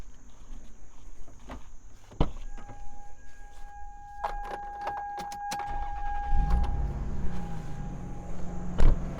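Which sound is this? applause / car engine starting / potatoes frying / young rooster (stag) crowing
car engine starting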